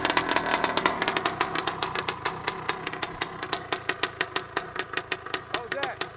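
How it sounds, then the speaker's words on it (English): A 1973 Suzuki TM250K vintage 250 two-stroke motorcycle engine runs loud and close, with rapid rhythmic exhaust pulses that rise and quicken as it revs. "This is one of the best running vintage 250s I've ever ridden."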